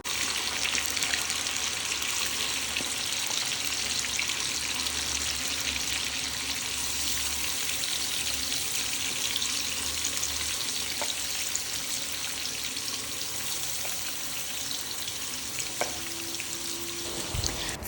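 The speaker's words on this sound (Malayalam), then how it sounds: "നമ്മൾ ഇപ്പുറത്തെ അടുപ്പിലോട്ട് നമ്മൾ ചിക്കൻ വറുക്കാനായിട്ട് വെച്ചിട്ടുണ്ട്" Chicken frying in a pan on a home kitchen stove gives a steady, moderate sizzle that runs throughout with no talking, joined near the end by a brief clink.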